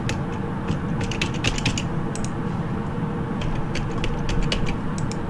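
Typing on a computer keyboard during a flight simulation session, with quick irregular clicks and taps of keys scattered throughout over a constant low mechanical hum, fairly close and without talk.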